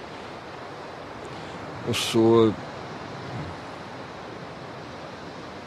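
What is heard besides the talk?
ocean waves near the shore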